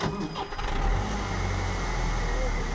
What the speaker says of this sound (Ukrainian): Режим для заводу двигуна.